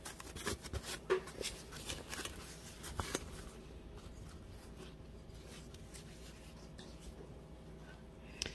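Faint rustling and crinkling of packaging as a new replacement fuser roller for a Brother HL-L8260CDW laser printer is unwrapped, with scattered soft rubs and taps in a quiet room, busier at first and then tapering off.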